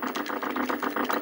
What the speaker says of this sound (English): But the machine gun effect and that little crosshair are dope.